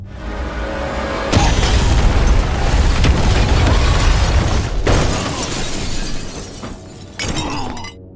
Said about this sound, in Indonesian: Dampak dari ledakan tersebut, Val terhempas dan terjatuh dari ketinggian.